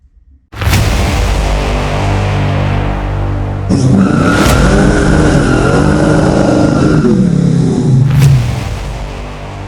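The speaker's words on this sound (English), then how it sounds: "It's burnout time." A 1999 Ford Ranger race truck does a burnout, its engine roaring and revving hard while the tires skid and squeal continuously, loud and close, with a rising whine partway through.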